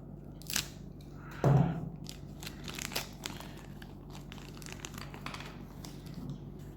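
Scissors snip loose the plastic dust cap on a Kenwood TK2000/TK3000 two-way radio, with a sharp crunchy cut, a few small clicks and crinkles of handling, then quiet rustling close by.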